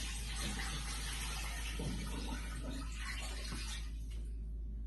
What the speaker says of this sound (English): I'm going to pour enough water on the chicken to cover it up